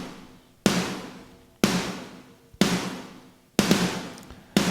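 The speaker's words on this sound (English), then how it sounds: "And then there's a bunch of snares." A stack of five layered snare drum samples with a slappy, roomy character, hit together five times at a steady, roughly one-second pulse; each loud crack rings out with a long decaying room tail and nothing else underneath.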